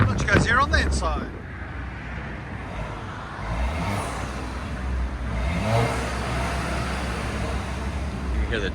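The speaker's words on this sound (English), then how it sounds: "You can hear the turbo a lot now." Turbocharged car engine with muffler and resonator deleted, heard from inside the cabin: a steady low drone with a rising whoosh partway through, voices talking over it at the start and end.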